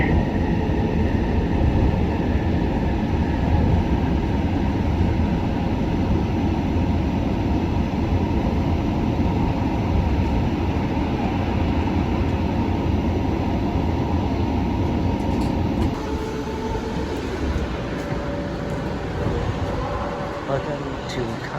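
A Seoul Metropolitan Subway train pulls into Gangnam University Station with a loud, steady rumble and rolling roar that eases and shifts slightly as it slows near the end.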